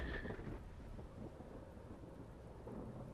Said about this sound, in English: There is a crash of thunder heard in the sky that awakens the party.